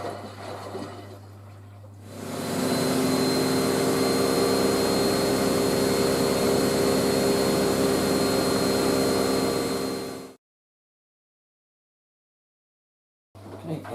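A washing machine on its final spin cycle spins up into a steady, loud whirring hum that holds for several seconds, then cuts off abruptly into silence.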